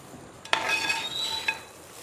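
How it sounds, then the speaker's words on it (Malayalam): Mango pickle being stirred in a pan, a soft scrape and clink of the spoon against the metal over a quiet sizzle, faint and close with no voices. "അതും ഇളക്കി കൊടുക്കുക"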